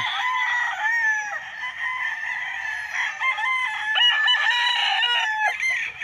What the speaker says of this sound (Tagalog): So ang ingay ng mga manok,